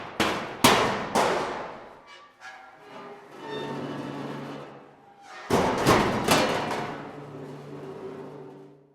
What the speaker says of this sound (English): We sampled lots of different methods of playing corrugated metal sheets with hits, scrapes, crashes,